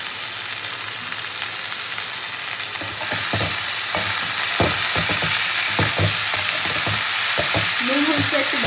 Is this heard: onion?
yes